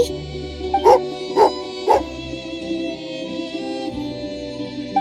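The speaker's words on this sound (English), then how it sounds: "Oh, angry doggy." Dog in the Genshin Impact video game giving three short, sharp barks close together near the start, over a steady game music bed, then quieter rumbling.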